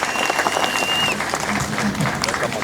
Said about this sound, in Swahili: Mpigie makofi moja